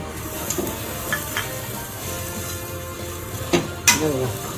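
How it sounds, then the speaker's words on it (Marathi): Khoa with dry fruits, flavoured with cardamom and nutmeg, is stirred in a pan with a low sizzle and occasional scrapes and clinks of the spoon against the metal, loudest near the end. "हे असं हलवत राहायचं, नाही तर जळतंय, मग हे जळलं नाही पाहिजे।"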